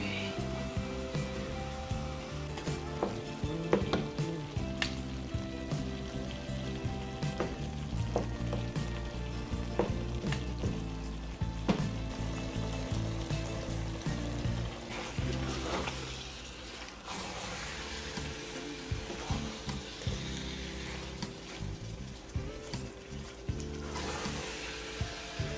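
Eru, a Cameroonian okazi greens dish with beef and fish, sizzles and fries in a pot after more oil is added, a steady crackling hiss with occasional utensil clatter.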